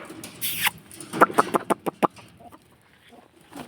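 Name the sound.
chickens clucking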